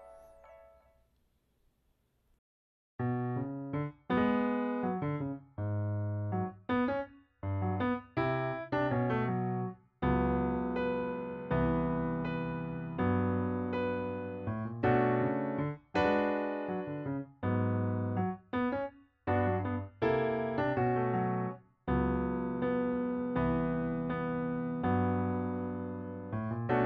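Solo piano plays an intro, steady rhythmic chords and melodic runs, clear and close, after a moment of near silence.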